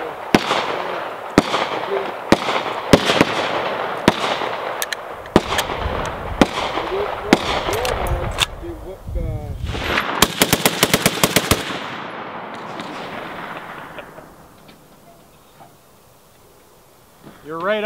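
Rifle shots at an outdoor shooting range in Kansas, a dozen or so sharp cracks at irregular intervals, one quick burst of rapid shots near the middle, with voices talking between them before a quieter stretch at the end.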